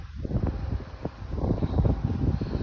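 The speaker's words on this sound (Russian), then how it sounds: "Ветер." Wind blows through a garden outdoors, gusting and rustling in uneven bursts with a steady buffeting roar close to the microphone.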